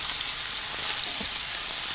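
Steady, close sizzling of onions frying in a hot pan, an even crackling hiss with no voices.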